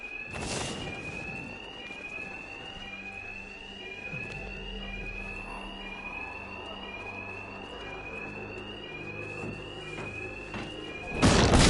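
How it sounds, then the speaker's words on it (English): Alarms in the Batman: Arkham Knight video game wail steadily with repeating rising sweeps, loud and continuous over a low rumble, with sharp impact bursts at the start and end. "these thugs can't hear a thing over the alarms."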